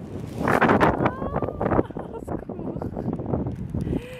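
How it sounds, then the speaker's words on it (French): Heavy wind buffets the microphone throughout, a constant roaring rumble that swamps everything else. "Il y a trop de vent, vous allez rien entendre"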